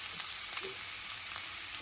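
Garlic, green chilli, carrot and capsicum fry lightly in a pan, giving a steady, soft sizzle with faint stirring scrapes throughout.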